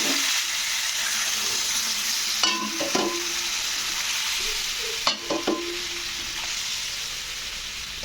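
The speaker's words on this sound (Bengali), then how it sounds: "এবারে এর মধ্যে আমি দিয়ে দেবো জল" Water poured into a pan of frying drumsticks (sojne data), potato and spices for a Bengali vegetable curry: steady loud sizzling hiss throughout, with a few clanks of a spoon against the pan.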